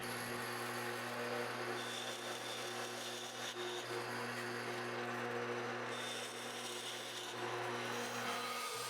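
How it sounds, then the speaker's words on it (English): A drill press bores holes in a wooden desk part, a continuous steady motor hum with grinding and rasping from the bit cutting wood, close and unbroken throughout. "took the piece over to the drill press to handle all of those"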